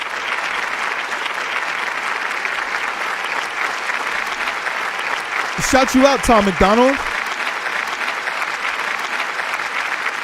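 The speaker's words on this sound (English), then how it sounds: "Get a round of applause for that" A crowd applauds and cheers at a live music event, a dense, steady wash of clapping that runs throughout, with a brief burst of loud shouting and whistles partway through.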